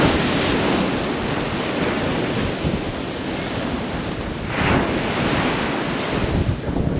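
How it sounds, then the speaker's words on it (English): Strong wind buffets the microphone on the exposed coast at Kilnsea, with surf breaking beneath it in a steady, loud roar and a brief stronger gust near the middle. "It's this wind that's causing the problems."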